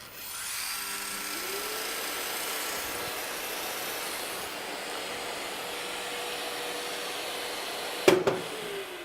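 A Festool Planex Easy long-reach sander with its head spinning in rotary action: a steady whirring, airy motor drone held at an even level, ending with a short sharp clatter near the end.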